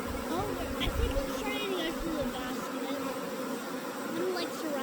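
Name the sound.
swarm of honey bees buzzing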